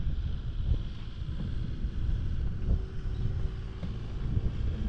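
Steady wind rumbles and buffets against the microphone, low and continuous, with faint distant knocks underneath.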